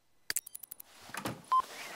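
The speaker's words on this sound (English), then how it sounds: "your phone's ringing" Phone ringing in a video game: a quick run of short electronic tones, then a brief sustained beep, faint and close against near silence.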